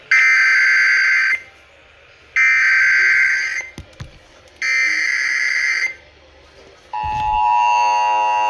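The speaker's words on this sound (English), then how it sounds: "Monthly EAS test." Monthly Emergency Alert System test: three loud, harsh buzzing data bursts, each about a second long with short gaps, then a steady attention tone begins.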